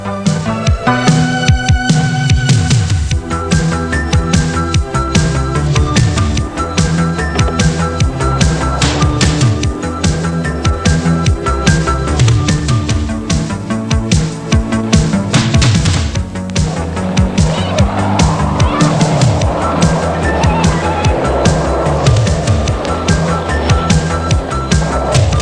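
Skateboards rolling on the concrete skate track in Albany, Western Australia, with continuous loud wheel rumble and clattering over joints, rising and fading as riders pass, with no talk.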